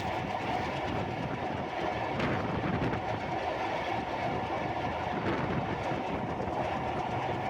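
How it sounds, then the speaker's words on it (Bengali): Madhumati Express from Rajshahi running on the elevated railway line toward the Padma Bridge, a steady loud rumble of wheels and carriages with faint rhythmic clatter throughout, no voices. "আজকে আমি রাজশাহী থেকে ছেড়ে আসা মধুমতি এক্সপ্রেস ট্রেনে করে পদ্মা সেতু যাওয়ার যে এলিভেটেড এক্সপ্রেসওয়ে রেল লাইনটা"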